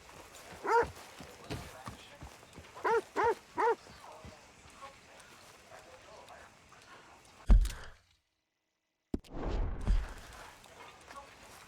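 Horse hooves clip-clopping in the Red Dead Redemption 2 game world, a few moderate hoof beats in short groups over a quiet outdoor ambience, ending with a brief loud thump before sudden silence.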